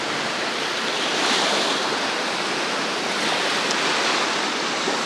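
Sea surf rolling onto the central beach at Anapa, a steady broad wash of breaking waves with light wind, continuous and fairly close, no voices.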